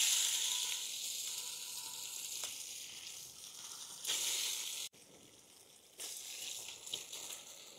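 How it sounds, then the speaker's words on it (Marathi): Beaten eggs frying in hot oil in a pan for an egg rice recipe, a steady close sizzle with a few brief louder bursts and dips, no one talking. "आता आपण याच्यामध्ये अंडे फ्राय करून घेऊ"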